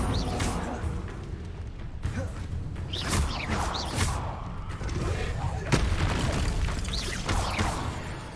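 Incendio fire spell being cast in the video game Hogwarts Legacy, several sharp booming bursts and whooshes that come in quick, irregular succession, loud and close, amid cluttered game effects.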